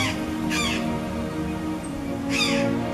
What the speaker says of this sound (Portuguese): Esse é o Azuri Jay, também conhecido como grare azul, pássaro típico da nossa região.